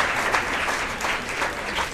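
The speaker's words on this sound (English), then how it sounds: "Hey, clap it up." A crowd claps in a steady, dense burst of applause at a school gathering, close and fairly loud, with no clear voice over it.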